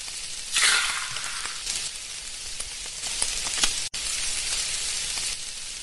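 Batter hitting a hot pan in a cartoon cooking game for kids, a steady soft sizzle with a brighter hiss at the start, heard alone with no talk.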